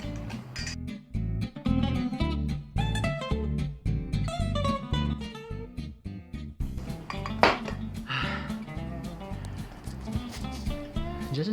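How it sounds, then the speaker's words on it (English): Butter and sugar are hand-whisked in a bowl in rapid, rhythmic metal-on-bowl clinks and scrapes, loud and close, with brief pauses between runs and no talking. "I'll just have to use manual force. So you gotta combine the butter and sugar until they're properly mixed and combined."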